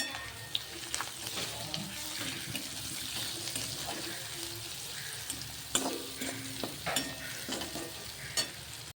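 Samosa filling fries in a pan with turmeric added, roasting until golden. A soft, continuous sizzle is overlaid with scattered scraping and clinking taps from stirring, fairly quiet and close, with no talking.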